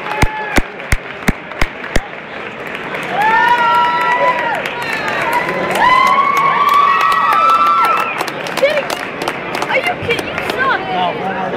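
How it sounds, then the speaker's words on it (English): A boxing crowd at a Golden Gloves fight claps a few sharp beats, then swells into loud, sustained cheering and shouting that fills the room before scattered claps return near the end. "another round of applause, ladies and gentlemen."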